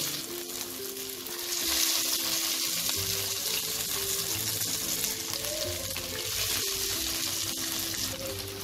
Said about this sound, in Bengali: তেলটা গরম হয়ে গেছে, আমি এবার একে একে ধোকাগুলোকে দিয়ে দেবো।